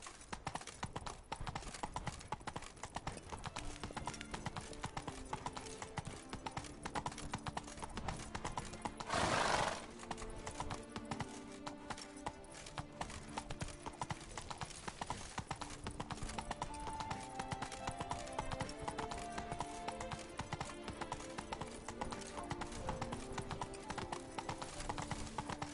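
Roach, the horse in The Witcher video game, gallops with steady rhythmic hoofbeats under a continuous music and ambient bed, broken by one loud neigh partway through; no voice is heard.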